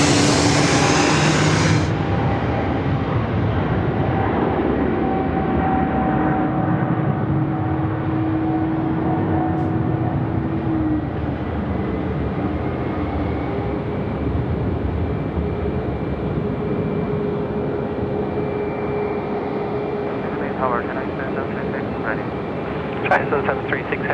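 A Boeing 787 airliner pushing back at Sydney Airport, a continuous distant jet engine whine and rumble with faint tones, after a brief louder burst at the start, under a steady background roar.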